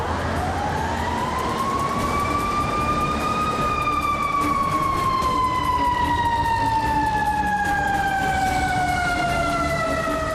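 A fire engine siren on a Chicago street wails loud and close, its pitch climbing and then slowly falling over a steady rumble of traffic.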